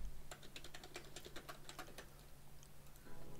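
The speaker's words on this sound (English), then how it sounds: "Sorry for all the typing." Rapid clicking of keys on a computer keyboard, fairly close, with uneven bursts of keystrokes over a low steady hum, without speech.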